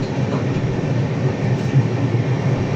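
Passenger train 15231 Barauni–Gondia hauled by a lone WAP-7 electric locomotive on a hilly ghat section, giving a steady, loud rumble throughout with no voices.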